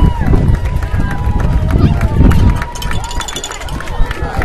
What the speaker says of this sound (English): you're hearing a happy Woodland crowd